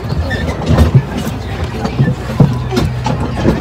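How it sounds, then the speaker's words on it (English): A passenger train rolls along its rails with a low rumble and soft rhythmic clatter, heard from inside the carriage. Voices talk intermittently over the moving train. "We're on a train right now."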